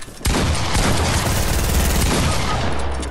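Rapid automatic gunfire in a first-person shooter video game, loud and continuous, a dense burst of overlapping shots lasting several seconds with no talk.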